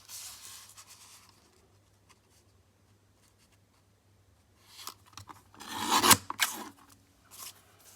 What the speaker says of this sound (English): We also need to trim down the black cardstock to the same size.